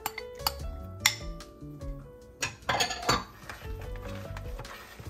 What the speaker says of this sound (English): Now we're going to fold in the 2 cups of okra, diced.